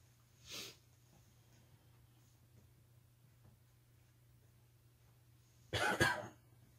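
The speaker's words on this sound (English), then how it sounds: "Sniffles and coughs and clearing my throat." Two separate bursts, a short cough and then a louder throat-clearing cough a few seconds later, close up against near silence.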